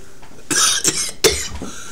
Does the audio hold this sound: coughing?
yes